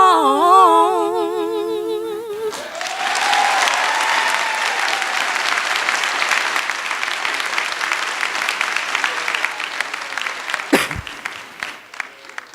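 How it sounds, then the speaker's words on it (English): Sustained audience applause fills a commencement ceremony hall after a short musical passage ends, many hands clapping loudly and evenly for about ten seconds before tapering off. "One more round of applause for those special women"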